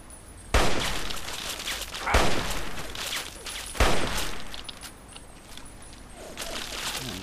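Gunshots ring out in Fallout 3, three loud cracks spaced a second or two apart, each trailing into a noisy wash of echo and rumble.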